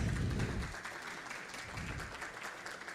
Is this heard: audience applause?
yes